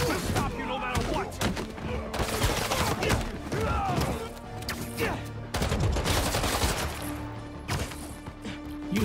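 Enemies fire guns in the video game Marvel's Spider-Man 2, a dense run of close, loud shots and bursts with crashes and thumps mixed in, continuing throughout.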